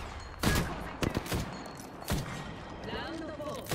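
Scattered gunshots ring out in the shooter game Apex Legends, a few sharp cracks and short bursts spaced irregularly over a busy battlefield background.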